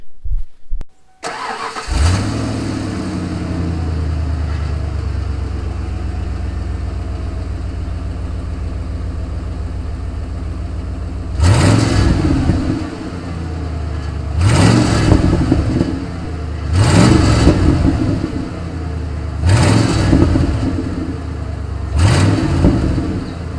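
A 9-inch lifted OBS Ford truck with a glass pack exhaust starts up and settles into a steady rumbling idle, then revs in four or five sharp bursts spaced a few seconds apart, loud and close.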